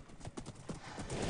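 Rhythmic Minecraft horse hoofbeats clip-clopping at a steady trot, fairly close, with a faint horse snort in the background.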